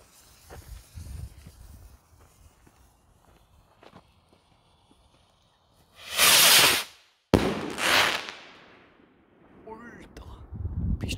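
Two loud 75-gram shell fireworks bursts from a Pyrotechnik Sternad set boom back to back near the end of an outdoor display, standing out sharply against quiet ambient noise, with faint crackling and voices around them.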